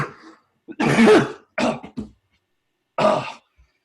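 A few sharp coughs and a throat clear, close and loud, in short bursts separated by silence.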